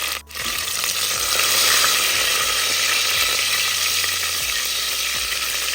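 Whole spices with dried red chillies, curry leaves and green chillies sautéing in hot oil for a garlic gravy, a steady close broadband sizzle with faint scraping stirs, no voices.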